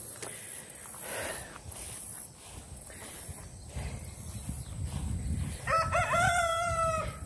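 A rooster crows once near the end, a loud stretched call over steady outdoor background noise.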